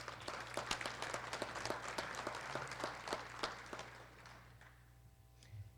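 Audience applause at a college State of the College address, a steady wash of many hands clapping for several seconds before thinning out toward the end.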